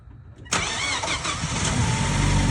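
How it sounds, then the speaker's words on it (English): Engine of a 2013 Ford Focus, just repaired for bad clutches and transmission, cranking briefly and firing up abruptly, then settling into a steady, loud idle close to the listener. "So let's go ahead and start this thing and see if it starts."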